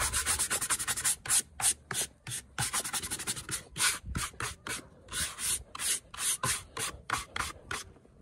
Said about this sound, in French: Donc je prends ma brosse grattante, je la trempe un peu dans l'eau chaude